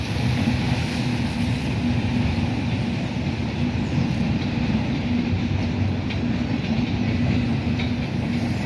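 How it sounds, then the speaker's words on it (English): A Norfolk Southern manifest freight train rolls past at 75th Street in a residential neighborhood, a loud, steady rumble with rail noise that holds throughout without a break. "And the train does sound like an earthquake though from here."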